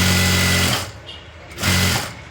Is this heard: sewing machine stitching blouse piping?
yes